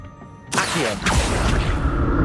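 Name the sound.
Accio summoning spell whoosh in Hogwarts Legacy video game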